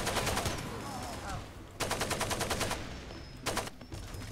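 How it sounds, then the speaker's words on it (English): Explosive crossbow fire in the video game Far Cry 2 comes through as bursts of rapid, crackling gunfire-like blasts, loud and dense, split by short gaps, over a steady game background. "How explodey is this explodey crossbow? Very explodey."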